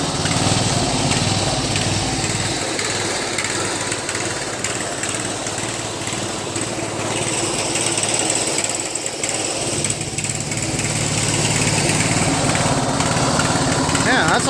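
Small engine of a Craftsman LT1000 lawn tractor idling steadily as it runs down its fuel, a loud close drone with a voice talking over it.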